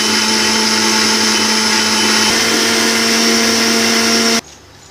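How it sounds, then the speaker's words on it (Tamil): A mixer grinder whirs loudly and steadily as it grinds coconut, a constant high motor drone that cuts off sharply near the end and leaves faint room noise. "இப்போ பாருங்க தேங்காய் அரைச்சிட்டோம்"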